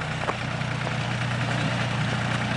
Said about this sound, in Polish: A tam ciągnik pracuje?